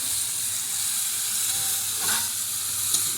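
A steady, loud sizzle of fish heads frying in hot oil hisses continuously, with a brief flare of crackling partway through.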